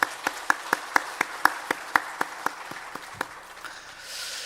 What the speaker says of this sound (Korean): 우리 먼저 축하하고 축복의 박수를 먼저 한번 보내면 좋겠습니다.